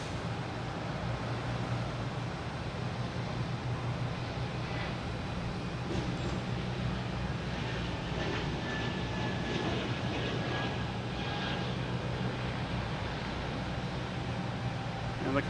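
A Delta airliner at Boston Logan Airport gives off a steady, distant jet roar that holds evenly throughout, with faint broadband rumble and occasional higher whines from other activity around the field.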